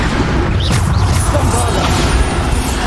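A Depulso force spell cast in the game Hogwarts Legacy: a short, dense burst of impact and whooshing energy over a loud, continuous layer of game sound.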